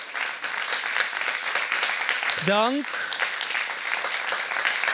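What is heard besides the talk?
audience applause for panel members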